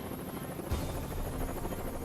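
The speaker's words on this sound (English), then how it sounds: "Today, a squadron of Marine helos are deploying to meet the President at a school in New Jersey." A squadron of Marine Corps helicopters deploying to a school in New Jersey makes a steady, droning rotor and engine roar with a constant high whine, sustained and fairly distant throughout.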